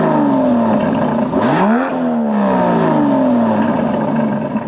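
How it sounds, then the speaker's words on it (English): An Aston Martin DB11's exhaust in Grand Touring mode drones as it accelerates, pitch climbing and dropping through a couple of gear changes at a moderate, smooth volume. "the most noticeable of which is to the exhaust note. Take a listen in Grand Touring mode."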